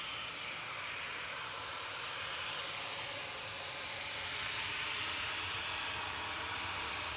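Singapore Airlines Airbus A350-900 departing Manchester Airport, a steady, loud broadband jet roar that swells slightly toward the end, heard alone without voices.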